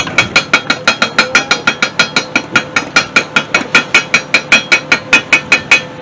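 A hammer chips slag and flux off a fresh weld in fast, regular metallic taps, roughly four a second, loud and close throughout, with no voices.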